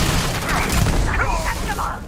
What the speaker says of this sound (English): Just shoot in the air to wake him up so we make this a bit faster.